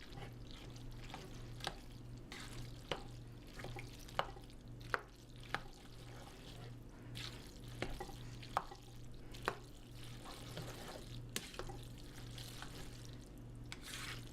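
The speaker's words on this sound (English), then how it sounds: "And then you just want to stir them all together." Pasta and pork stirred together in a pot, with soft wet shuffling and scattered clacks of a utensil on the pot, set against a low humming background and no speech.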